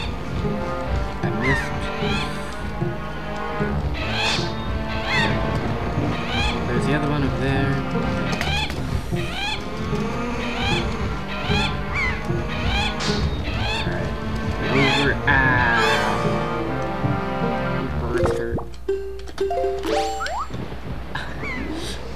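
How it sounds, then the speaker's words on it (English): Seagull honks and squawks in Zelda Wind Waker, repeated bird cries mixed with game music and sound effects while a player talks over them. "Another seagull"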